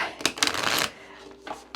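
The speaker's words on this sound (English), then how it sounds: "these are big cards, so I have to kind of like separate them and shuffle them in waves" Large tarot cards shuffled in waves, two quick bursts of riffling paper close up, the first longer, the second brief, with no talk.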